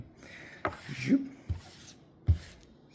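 Whittling knife carving wood: a few short, close scraping cuts and dry rubbing strokes, separated by brief pauses and quiet, with soft clicks between them.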